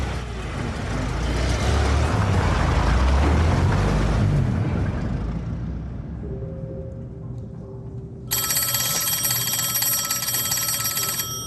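An old telephone rings in a 1920s Birmingham setting, a bright rattling bell cutting in loudly near the end after a passing vehicle's rumble fades.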